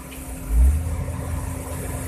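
An excavator engine turns over and settles into a steady, low idle, close by and fairly loud, with a brief surge at the start.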